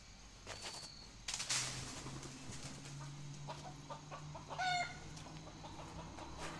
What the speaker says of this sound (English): There's a rooster over there.